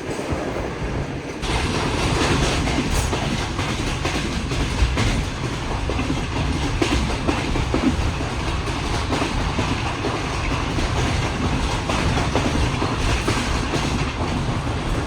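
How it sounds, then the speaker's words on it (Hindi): The Shah Hussain Express, hauled by locomotive ZCU 6326, runs at speed toward Lahore in a loud, continuous rumble with rhythmic clickety-clack of wheels over rail joints, heard from on board. "बेहतरीन स्पीड में आगे बढ़ रही है ट्रेन इस वक्त लाहौर की तरफ।"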